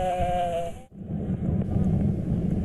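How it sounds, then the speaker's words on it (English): Sheep bleat in harmonic calls during the first second beside Hulunbuir Lake in Inner Mongolia, then give way to steady outdoor noise from the grazing flock and wind. "Hulunbuir Lake still remains a popular watering spot for the many sheep grazing nearby."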